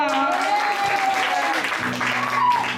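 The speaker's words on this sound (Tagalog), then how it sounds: "Palakpak din kayo" A live talent show audience claps in loud, dense applause that runs steadily throughout, mixed with a singing voice and music.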